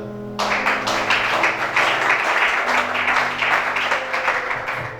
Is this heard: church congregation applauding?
yes